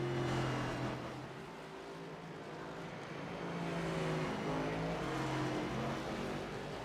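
NASCAR Cup cars in iRacing practice at Martinsville crossing the line, a whining engine roar whose pitch climbs and drops as several cars pass and accelerate, steady and fairly loud throughout.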